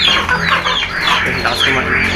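Native chickens, including a Texas-breed bird about three months old, cluck in a small coop, the calls overlapping steadily and fairly close throughout.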